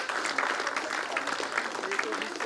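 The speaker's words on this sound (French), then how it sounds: "on peut applaudir le Seigneur et le remercier" A church congregation claps together in thanks during a service, a brief, steady patter of hands with a voice speaking over it.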